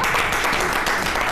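A short burst of dense studio audience applause on a television talk show, loud and close, a continuous wash of many hands clapping at once.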